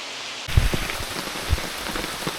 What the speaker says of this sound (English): Well, the rain's not went off.